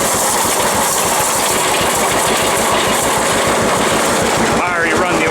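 A John Deere 70 tractor drives a Claas WS380 tedder rake spreading hay, its steady loud engine chugging with a rhythmic low-end pulse and broad mechanical whir throughout, close to the microphone.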